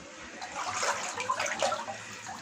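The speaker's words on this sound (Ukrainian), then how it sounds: "Чистенька, джерельна вода." Spring water splashing and pouring steadily at a chapel, close by, with a bright bubbling rush and no voices.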